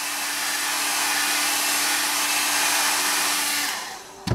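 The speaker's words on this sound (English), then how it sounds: "heat it with a hairdryer" A hair dryer blows in a steady, close whoosh as it warms motorcycle paintwork, running alone for about four seconds before switching off with a brief clatter.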